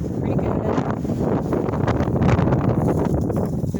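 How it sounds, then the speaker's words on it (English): Strong wind buffets the microphone outdoors in a Colorado garden, a continuous loud rushing roar with rustling, steady throughout with no clear talk. "It's very windy out here, so you're going to see a bunch of sticks and leaves blowing all over the place"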